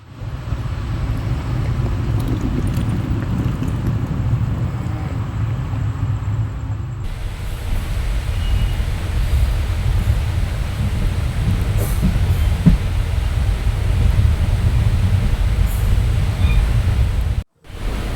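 The Kamban Express, running from Chennai to Velankanni on a new route with a single locomotive, gives a steady, loud, continuous rumble and rolling clatter for the whole stretch, cutting out briefly near the end, with no voices.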